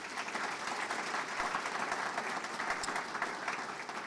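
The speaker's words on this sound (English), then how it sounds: "Let's give them a round of applause." A community reception crowd applauds the presidential search committee, with steady dense clapping throughout that neither builds nor fades.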